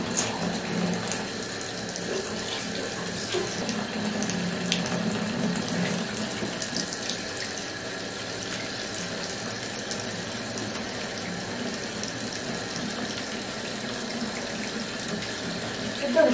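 Water runs steadily from a tap while a stray dog is washed, a continuous splashing hiss lasting the whole stretch with faint mechanical ticks and a few quiet words in the background.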